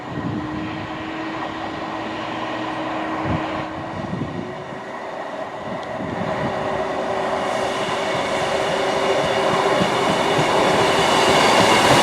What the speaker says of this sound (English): behind me is East Midlands Railway Class 158 DMU.